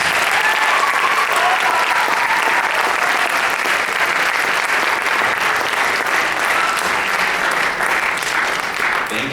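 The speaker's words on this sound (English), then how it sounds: "help me in giving these guys a big round of applause" Steady, loud audience applause fills a school choir awards and senior send-off, a dense continuous wash of many hands clapping with no break.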